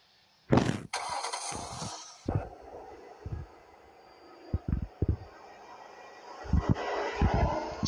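A car engine in a video game cranks and starts with sharp bursts, followed by scattered revs and thumps over a low running drone, loud and close.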